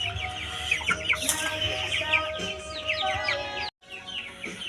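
Chickens, including newly hatched chicks, cluck and chirp in a busy, continuous chorus, with a brief drop to near silence before the calls resume.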